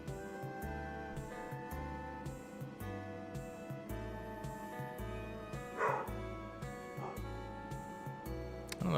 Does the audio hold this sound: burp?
no